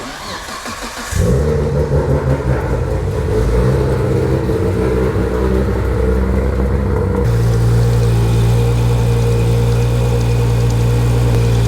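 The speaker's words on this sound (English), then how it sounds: "It will be a cold start, so it's gonna be quite noisy." A Nissan Skyline RB engine cold-starts with a brief crank, then catches into a loud, rough high idle that churns steadily close to the microphone, dropping to a lower, smoother idle tone after several seconds.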